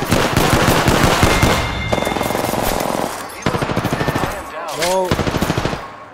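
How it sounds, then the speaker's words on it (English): Automatic gunfire in the video game Apex Legends, loud rapid bursts of shots in several volleys with brief pauses between them, close and dense, ending in a short electronic warbling effect. "I'm getting shot at."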